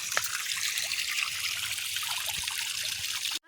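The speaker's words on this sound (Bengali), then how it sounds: "আর আমি এই যে এখান থেকে জল ঢুকছে পুকুরে।" Water trickles steadily into a pond, a close, continuous bright splashing with no voices, then cuts off abruptly at the end.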